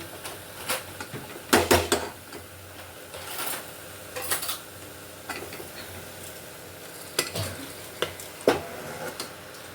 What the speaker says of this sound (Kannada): ಈ ಒಗ್ಗರಣೆಯಲ್ಲಿ ಸ್ವಲ್ಪ ಹೊತ್ತು ಅಕ್ಕಿನ ಈ ಥರ ಫ್ರೈ ಮಾಡಿದ್ರೆ ತುಂಬ ಟೇಸ್ಟ್ ಇರುತ್ತೆ